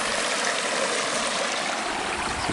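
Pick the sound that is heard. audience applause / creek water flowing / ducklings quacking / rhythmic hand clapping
creek water flowing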